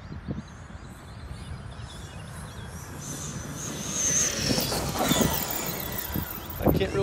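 Tekin Maxx-powered RC car driving across an open field, a whining motor and tire squeal rising louder past the midpoint with scattered crunching bursts, outdoors at moderate distance.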